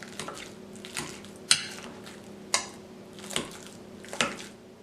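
Bananas being crushed for chocolate banana ice cream, a few soft wet squishes and sharp taps spaced about a second apart, close up and quiet, with a faint steady hum underneath.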